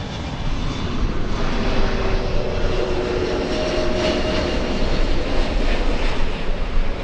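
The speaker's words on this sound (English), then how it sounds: "So we're going to go for the Qantas A380 instead." A Qantas Airbus A380 jet on final approach to LAX gives a loud, steady, broadband engine roar that fills the scene continuously, with no voices.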